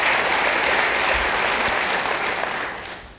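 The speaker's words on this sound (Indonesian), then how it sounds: "Yang mau beri tepuk tangan bagi dia" Church congregation applauding during a sermon, a steady dense wash of clapping that holds at an even level for about three seconds before easing slightly at the end.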